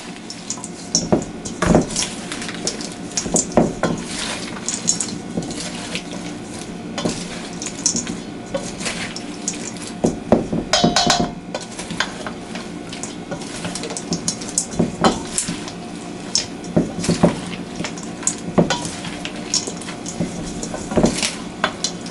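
Mandarin orange and rice noodle salad being tossed together in a bowl, with steady soft clinks of utensils and scraping, rustling stirring sounds running throughout at close range.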